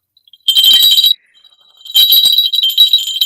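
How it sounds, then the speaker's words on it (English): A dinner bell rings in two bright, metallic bursts, the first about half a second long and the second longer, separated by a short pause, close and loud. "The dinner bell is ringing."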